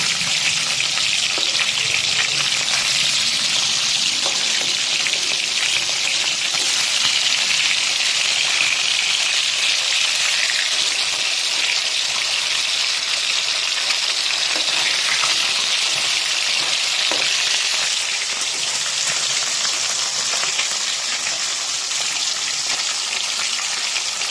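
Lailon Tiger fish fries in plenty of hot oil as the pieces are turned, a steady bright hiss that holds at an even loudness for the whole stretch, close and without talk.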